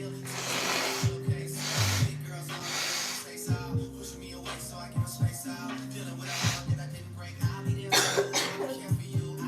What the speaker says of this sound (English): Oh gosh, this cough.